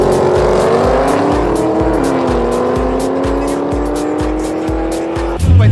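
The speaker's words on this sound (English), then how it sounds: "the WA Police Beat the Heat team in one of their drag cars got out on the strip and kept the crowd entertained" WA Police Beat the Heat drag car revving hard on the strip, a loud roaring engine with a steady rhythmic pulsing beat that climbs in pitch, ending in a sudden burst of noise.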